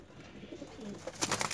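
A pigeon coos softly a few times, low and fairly close, with some brighter rustling near the end.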